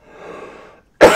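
A single muffled cough-like sound, then a short silence and a sharp, loud cough burst, close to the microphone.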